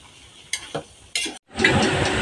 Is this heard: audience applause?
no